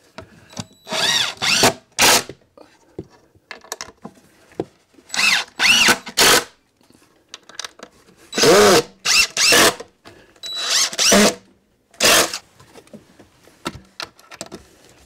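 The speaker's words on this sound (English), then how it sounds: "I'm going to screw the top on first." Power drill driving screws through a wooden shelf top, in a series of short whirring bursts separated by quiet pauses, close and fairly loud, with no speech.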